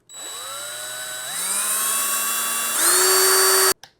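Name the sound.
driving a screw into a 3D-printed shelf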